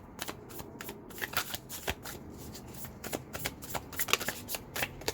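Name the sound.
shuffling cards to draw a reading card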